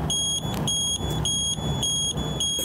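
High electronic beeps from Easter eggs at an egg hunt for kids with vision loss repeat in a steady rhythm, about five evenly spaced tones over a low background murmur.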